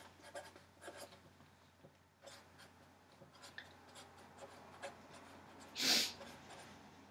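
Pencil writing an answer by hand on paper in short, quiet scratching strokes, close and faint, with one louder brief rustle near the end.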